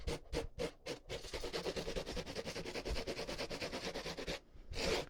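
Paper towel dragged across a textured board to wipe off excess, a steady close scratchy rubbing that runs continuously after a few short separate swipes and ends with one more brief swipe.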